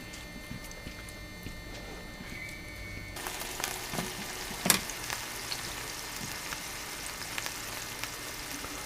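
Sausages sizzle steadily in a frying pan in a home kitchen, a continuous crackle with occasional sharper pops and a brief clatter partway through.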